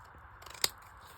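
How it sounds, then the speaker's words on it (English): Scissors chop a corner off a square of card for a notched corner piece, giving one quick, crisp snip amid a few faint rustles, close and quiet. "slide your scissors in and just chop"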